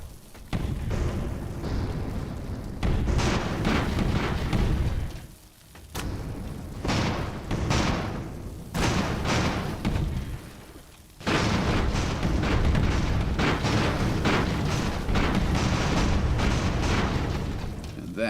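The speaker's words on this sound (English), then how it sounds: "So things are now exploding all over the place." Explosions tear through steampunk airships in the battle game Airships: Conquer the Skies, loud overlapping booms and crackling blasts in dense bursts separated by brief lulls.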